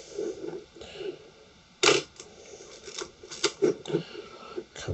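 A vintage camera shutter fires repeatedly on its auto setting, giving sharp close mechanical clicks at irregular intervals, one louder snap standing out, over quiet room noise with no speech.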